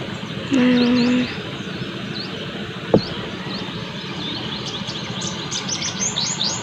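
Birds chirp and tweet in scattered short calls over steady wind noise outdoors, with a brief low hum near the start and a single sharp knock.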